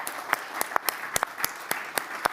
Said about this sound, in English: I want a warm round of applause for our three speakers here today.